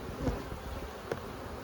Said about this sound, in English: Yeah, this is a lot of bees, a lot of nurse bees.